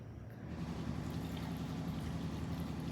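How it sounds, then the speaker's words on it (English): Vinegar poured into a jar of herbs makes a steady, close liquid pour that starts about half a second in and runs evenly to the end, quiet and alone. "So you will pour some vinegar in"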